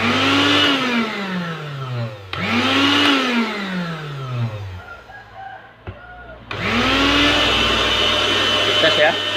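Maspion kitchen blender motor whirring loudly after a switch repair, starting in three long bursts that rise in pitch as it spins up, with short pauses between runs.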